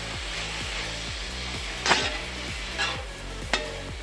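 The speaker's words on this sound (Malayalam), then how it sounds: "നല്ലതായിട്ട് ഇളക്കണം" Bitter gourd slices being stirred with salt in a frying pan, a steady scraping rhythm of spatula strokes roughly every half second over a low hum, with a few sharper clatters standing out.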